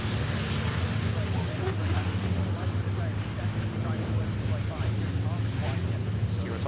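A MAN race truck at Pembrey during a 2023 British Truck Racing Championship round: a loud, steady low engine drone with air-brake hiss, running continuously under a commentator's voice.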